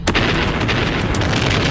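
An explosive blast goes off at a mining dig site for Amazonite and smoky quartz, a single loud, close boom that fills the moment and rolls on as a heavy, sustained rumble.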